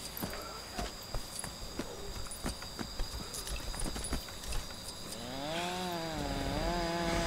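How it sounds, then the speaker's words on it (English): A lawnmower engine in the video game LEGO Jurassic World starts up and revs with a rising, wavering drone after a run of clattering thumps and footsteps, fairly loud and close, with no talking. "it's getting chased by the lawnmower"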